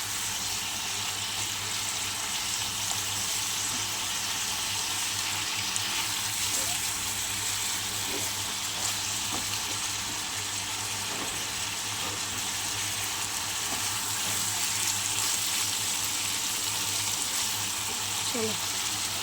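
Fish fat fries in a pan with a continuous, close, hissing sizzle that holds steady throughout, sprinkled with small pops and crackles.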